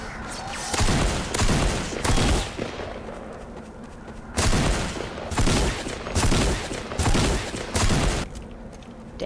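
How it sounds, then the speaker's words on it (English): Loud gunshots in a Garry's Mod match, firing in repeated clusters of sharp blasts with short pauses between bursts, booming and close, spread across the whole stretch. "Took all those shots and I didn't shoot him once"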